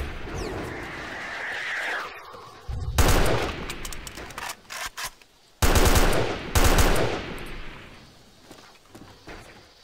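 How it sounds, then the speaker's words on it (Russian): Machine gun fire in a tactical military shooter game set around a village, with sustained bursts of rapid automatic shots in two loud stretches, separated by quieter gaps and a few scattered single shots. "Там, слушай, пулемет, пулемет."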